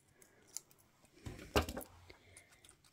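Paper being trimmed with scissors for handmade card making, a short crisp burst of cutting snips near the middle, close and fairly quiet, with faint handling rustles around it.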